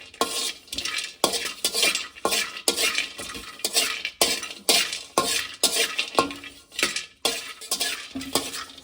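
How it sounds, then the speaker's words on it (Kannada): Cinnamon pieces fry in a pan over a low flame while a utensil stirs and scrapes them in quick, steady strokes, close up, with a faint sizzle underneath and no voices. "ಒಂದು 4 ಪೀಸ್ ಚಕ್ಕೆ ಇಷ್ಟು, ಇದನ್ನು ಕೂಡ ನೀಟಾಗಿ ಫ್ರೈ ಮಾಡ್ಕೊಳ್ಳಿ."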